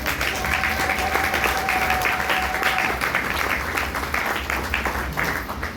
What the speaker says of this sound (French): Laissons bien acclamer le Seigneur.